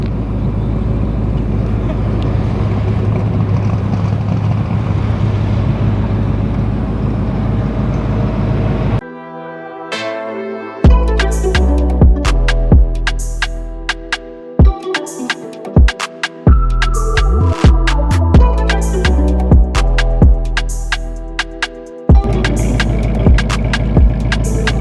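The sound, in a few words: Whipple supercharged Mustang Dark Horse engine on dyno run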